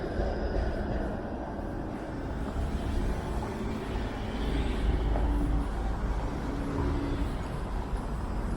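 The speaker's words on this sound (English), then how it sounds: "It's been non-stop streetcar action." Steady rumbling roar of streetcars passing along Queen Street in Toronto, a continuous low rolling drone of traffic with no pauses.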